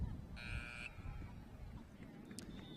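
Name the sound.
buzzer sounding as the clock runs out at a lacrosse game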